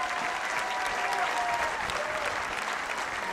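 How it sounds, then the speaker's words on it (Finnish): A large audience at a Finnish sports gala applauds a footballer during an award presentation, with steady, dense clapping that fills the hall throughout. "Mutta raikuvat aplodit Teemulle"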